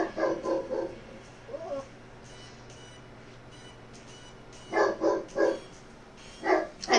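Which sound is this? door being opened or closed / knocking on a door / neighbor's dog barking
neighbor's dog barking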